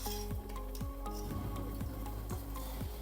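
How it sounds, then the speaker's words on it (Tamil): Rice and lentil pongal boiling in a pot, a steady bubbling and sizzling with soft pops and stirring scrapes, loud and close without talk. "நல்லா பொங்கி வருது."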